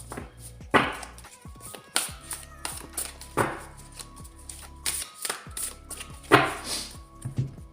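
A deck of tarot cards is cut and handled on a table, giving a series of crisp taps and shuffling riffles at an uneven pace. The sounds are close and moderately loud.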